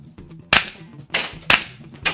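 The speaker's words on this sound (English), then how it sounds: "go ahead and squeeze off 1 or 2 rounds" Blank rounds fired from a weapon during a training visit, four sharp close cracks at roughly even half-second spacing, each dying away quickly, with no talk between them.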